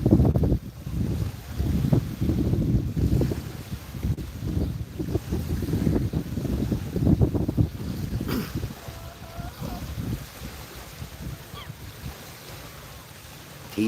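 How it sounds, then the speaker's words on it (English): Water lapping by a boat outdoors with wind buffeting the microphone, a continuous rushing and sloshing with voices talking intermittently over it. "enjoy this water, the sound of the water"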